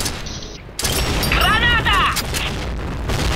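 A grenade explodes in the online shooter Point Blank, a sudden loud boom that rolls into a sustained rumble amid ongoing game noise, with a voice talking over it.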